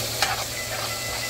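Ground beef fries in a pan while being stirred, giving a steady, close sizzle and hiss with a brief scrape of the spoon near the start.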